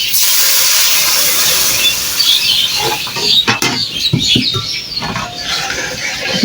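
Water hits a hot pan of ghee-fried flour, giving a loud bursting hiss and steam that sputters and settles into crackling bubbles.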